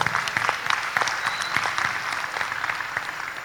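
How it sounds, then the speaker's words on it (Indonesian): Audience at a large business conference in Indonesia applauds, a short burst of close, dense clapping that stays lively throughout. "Kasih aplaus buat kita semua"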